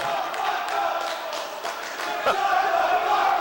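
Crowd at a wrestling show shouting and yelling together, a continuous rowdy roar with voices rising and falling, fairly loud throughout.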